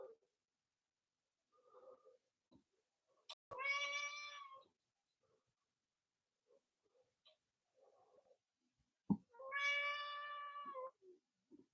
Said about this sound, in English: What you meowing for?